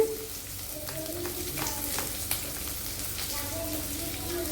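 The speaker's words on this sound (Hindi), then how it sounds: "ये प्याज और हींग दोनों साथ साथ डालिए" Onion and asafoetida frying in hot oil with a soft, steady sizzle and a few light clinks, fairly quiet throughout.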